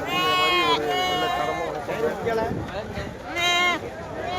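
Goats at a livestock market in Ettayapuram bleat loudly and close by, several wavering calls overlapping one after another over a busy crowd background.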